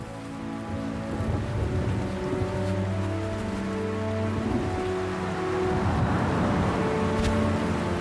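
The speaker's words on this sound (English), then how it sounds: "Rain and forest may reduce the risk of getting struck by lightning, but even so, a mountain thunderstorm is extremely dangerous." Steady heavy rain from a mountain thunderstorm pours down in a broad, constant wash, with low rumbling underneath that swells slightly toward the end.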